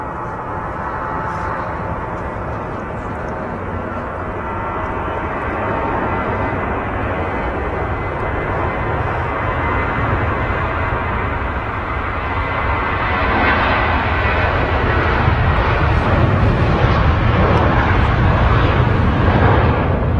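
A Lufthansa Airbus A321 jet roars steadily, its engine noise building louder and deeper in the second half as the aircraft draws nearer, a broad rumbling thrust with no voices.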